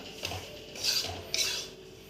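Gram flour (besan) being roasted in a pan over low heat for laddoos, heard as a few light scraping and clinking strokes of a spatula against the pan, close and quiet with no talk.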